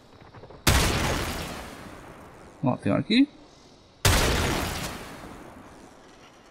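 Two loud, heavy gunshots from the video game Warframe boom about three seconds apart, each with a sharp onset and a rolling decay, while a person speaks briefly in between.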